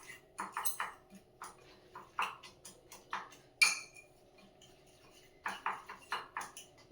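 Food with egg and onions is stirred in a pan, a spatula clicking and scraping against the metal in irregular sharp taps, some in quick clusters, fairly close and quiet.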